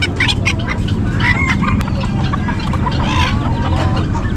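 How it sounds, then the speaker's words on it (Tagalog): Short-legged chabo bantam chickens cluck and chatter close by at an outdoor pet market, a busy continuous flock sound with scattered sharper calls and crowd noise beneath. "Short leg, chabo bantam."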